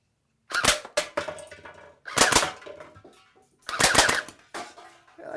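A Cybergun Thompson M1A1 airsoft rifle fires 0.12 gram BBs at cans in three quick bursts of sharp, rapid clicking shots separated by short pauses, close and fairly loud.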